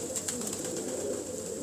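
Pigeons cooing in a loft of about 180 birds, a steady low murmur of overlapping coos that runs continuously and fairly softly, with no talk.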